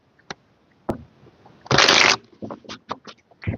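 Tarot cards shuffled by hand: scattered light flicks and taps, then a loud, dense riffle lasting about half a second, followed by several short card snaps and slaps, close and clear, with no talking.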